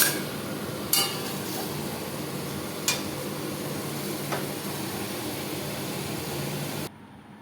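Vegetables frying in a pan for pui saak, a steady close hissing sizzle with a few light clicks of utensils, cutting off abruptly near the end.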